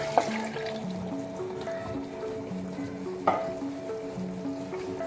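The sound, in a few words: stock (yakhni) added to frying masala and potatoes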